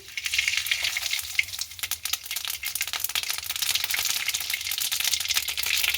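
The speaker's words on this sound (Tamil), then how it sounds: "இப்போ எண்ணெய் நல்லா சூடாகிட்டு நாங்கள் முதல்ல கடுகை போட போகிறோம்" Mustard seeds hit hot sesame or coconut oil and crackle and sizzle loudly, a dense, continuous, close spattering hiss that runs for the whole stretch.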